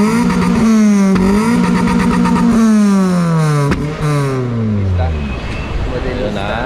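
A 2007 Toyota Yaris hatchback with a JD Muffler full exhaust and twin center tips revs loudly and up close, its pitch climbing and falling through several repeated throttle blips before easing down.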